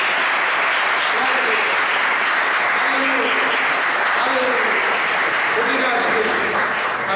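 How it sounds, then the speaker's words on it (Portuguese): Loud, sustained applause from a church congregation praising God during a service, a dense continuous roar of many hands with voices faintly mixed in. "Aplauda o Senhor"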